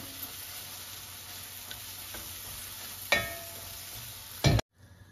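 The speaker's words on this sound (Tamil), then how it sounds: "இந்த பச்சை வாசனை போற வரைக்கும் நம்ம கொஞ்சம் வதக்கி விடலாம்" A green apple pickle mixture sautés in a pan with a faint, low sizzle, a couple of stirring clicks, and a sharp knock against the pan just before the sound cuts off.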